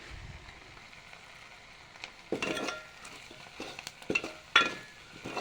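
Mutton masala is stir-fried in a pan, with a soft background sizzle broken by scattered scrapes and clinks of the spoon against the pan, close and moderately quiet, with no speech.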